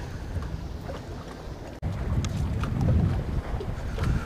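Gusty wind buffets a microphone on a fishing boat, a low, rumbling roar that surges and eases over a few seconds with no talking.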